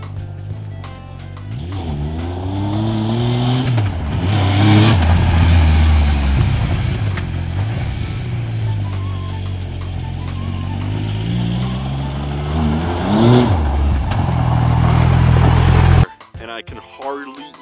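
A Yamaha YXZ1000R side-by-side engine runs close and loud, revving up and down in repeated rising and falling sweeps for about sixteen seconds before cutting off abruptly, while people talk over it.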